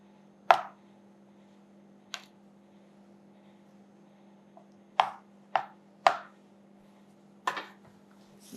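A spatula taps and scrapes against chocolate ganache on a round cake, six or so sharp isolated clicks spaced irregularly over a quiet background hum, close and fairly crisp.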